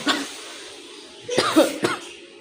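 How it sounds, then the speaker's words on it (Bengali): A few harsh coughs from a person suffering a bad cough at home, one short burst near the start and then a cluster of two or three loud, close coughs. "এখন অবস্থা খুবই খারাপ, অনেক কাশি আসতেছে"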